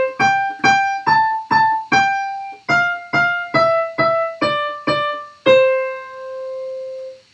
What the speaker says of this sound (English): So if I was to play Twinkle Twinkle Little Star with just the melody, it would sound like this.